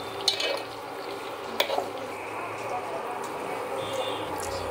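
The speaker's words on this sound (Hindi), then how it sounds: "अभी थोड़ा थोड़ा तेल ऊपर से भी डाल देंगे पनीर के ऊपर।" Paneer frying in oil in a pan, a steady soft sizzle throughout with a couple of sharp clicks of utensils near the start and middle, close and moderately quiet.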